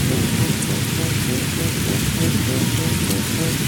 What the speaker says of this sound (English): Pouring rain came down so hard that Monkey and the tractor couldn't react in time.